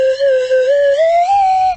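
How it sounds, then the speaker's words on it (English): A single slide whistle is blown close and loud, its tone gliding slowly upward over under two seconds before cutting off. "a much better slide whistle"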